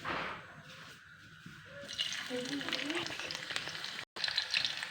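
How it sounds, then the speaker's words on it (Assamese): Onions and chillies hit hot oil in a wok and a loud sizzle erupts partway through, crackling and frying steadily close by, with faint background voices. "ইয়াত এতিয়া পিঁয়াজ আৰু জলকীয়া দিম"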